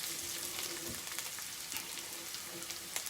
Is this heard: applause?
no